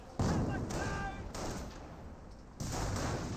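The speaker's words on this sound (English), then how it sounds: "And now do have another decoy barrage raining on in." A decoy artillery barrage in the World War II strategy game Company of Heroes pounds away in loud, dense waves of booming explosions and rattling fire, a voice faintly mixed in.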